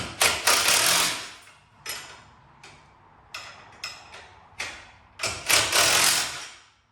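A ratchet wrench tightens the bolts on a trailer jack bracket in short clicking bursts separated by pauses. The clicks are sharp, close and fairly loud.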